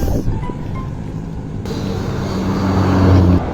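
Steady traffic on a six-lane highway heard from a bicycle, a broad wind-buffeted roar of passing cars that builds gradually, with a heavier vehicle's low engine drone rising toward the end.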